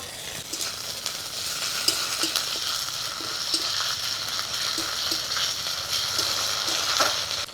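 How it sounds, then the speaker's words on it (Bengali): Ginger, cumin and green chillies fry with onions in mustard oil. The sizzle is constant and close, and a spatula stirs through it with light rhythmic scrapes and taps. "এবারে দিয়ে দেবো আদা জিরা কাঁচা লঙ্কা।"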